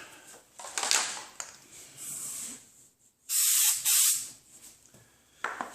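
Undercoating sprayed from an aerosol can onto a 2015 Honda Civic during front collision repair, several short close hissing bursts followed by one longer loud blast, then a brief final spurt, with no talking.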